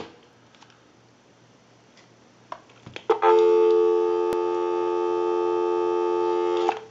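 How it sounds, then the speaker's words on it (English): A Mickey Mouse original model telephone produces a steady, loud dial tone that starts abruptly after a few faint clicks and handling noises, holding a constant buzzing hum close by until it cuts off. "Go ahead and give you some dial tone."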